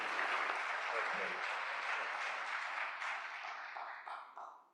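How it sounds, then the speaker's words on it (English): An audience applauds at a Yom Kippur study gathering at Temple Judea, welcoming a judge as guest speaker; steady, dense clapping from a crowded room that holds for several seconds and then tapers off. "So please give a round of applause"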